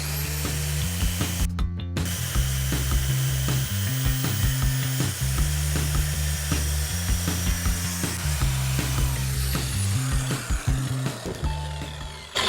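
Handsaw cutting a board during renovation of an old house's storage room, steady rhythmic rasping strokes close up, repeating evenly for several seconds with no talking.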